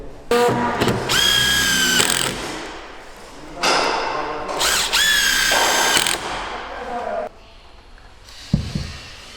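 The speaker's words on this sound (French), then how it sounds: "ça nous permet de le visser comme ça" A power drill drives screws into the wood of an insulated garden studio, with two long whining bursts that rise in pitch, short pauses and knocks between them, then a dull thud near the end.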